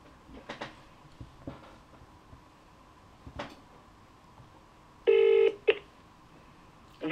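A telephone dialing out to an automated Microsoft phone support line for Windows 11 activation: a few faint scattered taps, then a loud short burst of dial tones near the end.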